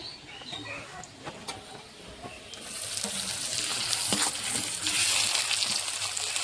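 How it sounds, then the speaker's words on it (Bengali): Chopped tomato drops into onions already frying red-brown in a pan, and the quiet background sizzle swells into a loud, steady hiss that continues to the end. "পেঁয়াজটা আমার বেশ লাল লাল করে ভাজানো হয়ে গেছে। এখন আমি টমেটো কুচিটা দিয়ে দিচ্ছি।"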